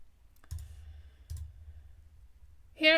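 Two sharp mouse clicks about a second apart select items at a computer, close and crisp in a quiet room, followed by a brief burst of speech at the end.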